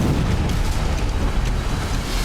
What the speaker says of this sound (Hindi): Su-25 जमीन से टकराया